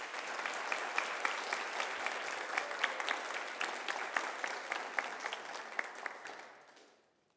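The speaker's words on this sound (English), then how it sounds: "A big round of applause." Applause from a crowd at a high school athlete's college signing ceremony, a sustained round of clapping with crisp individual claps, holding steady before fading out near the end.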